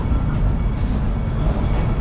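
The Congo train at Busch Gardens Tampa gives a continuous, fairly loud low rumble and rolling clatter, steady throughout with no voices.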